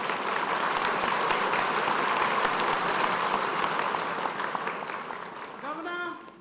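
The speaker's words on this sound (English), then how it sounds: "I'd like you all to give him a very big clap" Dense, sustained applause from a school debate audience honouring the governor, a loud continuous wash of clapping that slowly tapers, with a voice starting to speak at the very end.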